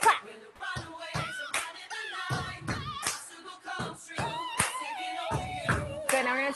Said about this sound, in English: I'm going to stomp and clap.